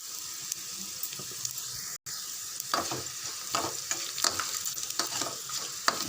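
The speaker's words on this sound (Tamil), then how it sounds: "ரெண்டு நிமிஷம் நல்லா கொஞ்சம் வறுத்து விடுங்க பூண்டெல்லாம் நல்லா சிவந்து வரட்டும்" Garlic frying in a pan while being stirred: a steady close sizzle with scraping and clinking of a spoon against metal, loud and continuous with a brief break, no talking.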